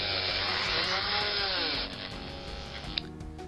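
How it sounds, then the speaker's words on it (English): A small drill bores out the post of a Hot Wheels die-cast Aston Martin One-77, a close, steady high whine that dips in pitch midway as the bit bites into the metal, then runs on at a lower, rougher tone. "I'm just drilling the post out, ready for tapping for a screw to hold the body and base back together."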